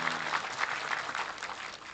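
Applause from an audience at a GERMAS health outreach gathering with a polytechnic in Kedungtuban, Blora; steady, fairly quiet clapping from a crowd, sustained evenly without a clear start or end.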